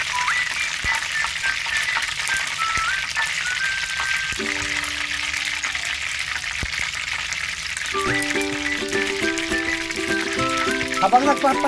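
Pork for crispy sisig dropped into hot cooking oil in a kawali, a steady bright sizzle and crackle running throughout, with someone talking over the frying.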